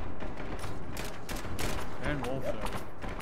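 Gunfire in an Unreal Engine 4 shooter game crackles as a dense, continuous fusillade of overlapping shots with a few brief tonal whines, while a person speaks over it.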